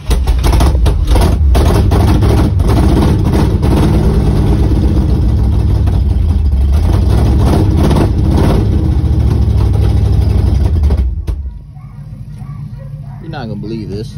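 A 1973 Dodge Charger engine runs roughly off a can of fuel for about eleven seconds, loud and close with uneven idle pulses, then cuts out, leaving quieter background sound.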